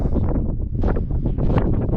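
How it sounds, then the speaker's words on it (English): Strong, gusting wind buffets the microphone on an exposed hilltop at Derwent Edge in the Peak District, a loud continuous roar swelling and easing in waves for two seconds with no voices. "it is hella windy"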